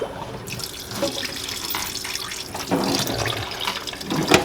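Running tap water splashes over oxtails being rinsed in a kitchen sink, a steady close gush that shifts and surges as the meat is moved under the stream, with no talk.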